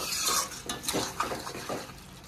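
Stirring a potato and pointed gourd curry in a pan with a spoon, with soft scraping clinks that come in short uneven strokes, close and moderately loud, no voices.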